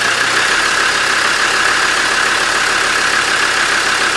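Land Rover engine running right after being started, a loud close steady rumble with a light throttle rev, no voices.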